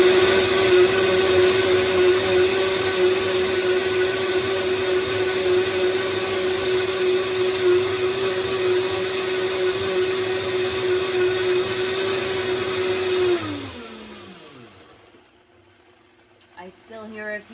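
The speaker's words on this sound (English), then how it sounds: "We're going to go ahead and blend those up." A blender motor whirs loudly and steadily while chopping walnuts, holding a constant pitch for about thirteen seconds before winding down and stopping.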